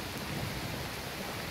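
Steady broadband rain falling in Skyrim, a constant even hiss with a low rumbling undertone, filling the whole stretch without breaks or voices.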